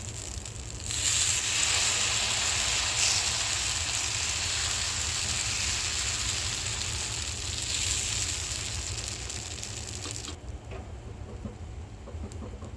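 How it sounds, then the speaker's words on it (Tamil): Beetroot onion dosa batter hits a hot pan and sizzles with a steady, bright hiss. The sizzle starts abruptly, holds evenly for several seconds, then cuts off sharply. No one speaks. "அடுத்தது பீட்ரூட் ஆனியன் தோசை ஊற்றிக்கிங்க"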